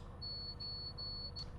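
A Class 220 Voyager train cab in a train simulator game on the Riviera Line sounds a faint, high-pitched beep in short repeated pulses over a low rumble of train running noise.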